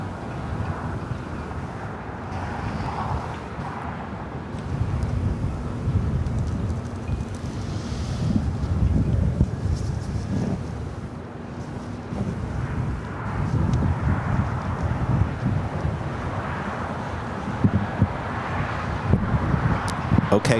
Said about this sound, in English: we've got the Eva, the 777-300ER. Next takeoff here on the south side